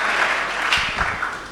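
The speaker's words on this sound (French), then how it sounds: "Acclamez très fort pour le Seigneur" A church congregation at a Sunday service applauds after the collection, a dense, steady wash of clapping from many hands filling the room, loud and sustained throughout.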